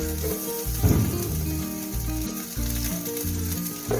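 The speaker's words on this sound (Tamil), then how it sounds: "முந்திரி, இஞ்சி, பூண்டு, வெங்காயம் ஆட் பண்ணியிருக்கேன். கொஞ்சம் வதங்கட்டும்." Cashews, ginger, garlic and onion sauté in butter in a pan, giving a steady close sizzle with a brief louder burst of frying partway through, alone without talk.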